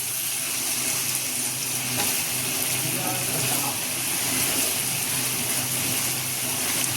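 Water pours into a hot curry pan to make gravy for a potato and soya chunk dalna, a steady hissing, bubbling sizzle that stays even and fairly close for several seconds.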